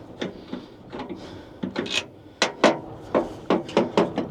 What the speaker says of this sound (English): to turn it, once you've parked up for the night, you need to unscrew all 4 of these